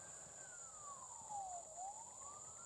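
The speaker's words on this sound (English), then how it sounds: "Hadn't heard that siren before." A faint electronic siren from a Ztrak mower sweeps down in pitch and then back up once, distant and quiet over a steady high whine.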